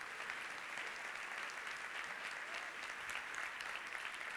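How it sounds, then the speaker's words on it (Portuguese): Applause from a church audience during a Portuguese-language sermon, a dense, even clatter of many hands heard at a distance and fairly soft. "Esse aplauso está muito fraco para o Senhor"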